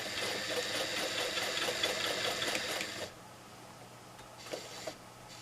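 A sewing machine stitching a canning mat runs in a fast, steady whirring chatter for about three seconds, stops, then a few faint clicks follow in a quiet room.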